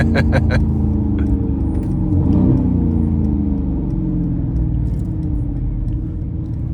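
The engine of a 2019 Mercedes-Benz C63 S AMG Brabus 900, heard from inside the car, gives a deep, steady rumble with a short swelling rev in the middle, running continuously and fairly loud.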